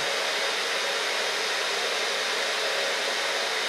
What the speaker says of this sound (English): You can lay the wet hair into the diffuser and just gently let it dry.